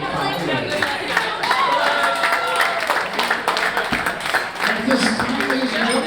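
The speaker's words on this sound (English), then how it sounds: "Ladies and gentlemen, a nice round of applause for Miss Kate Falconer." Wedding guests clap and cheer in a steady, moderately loud burst of applause, with crowd chatter running underneath.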